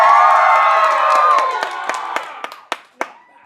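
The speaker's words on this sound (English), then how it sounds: "let's see who can cheer louder" A theater audience at a Pirates of Penzance performance cheers loudly, a roaring swell of whoops and shouts that fades over a few seconds into scattered claps and a last few hand strikes.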